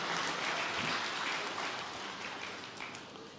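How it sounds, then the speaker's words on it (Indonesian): Audience applause at a Christian sermon, a steady dense wash of clapping that is fairly faint and gradually tapers off. "Berikan tepuk tangan dia meriah."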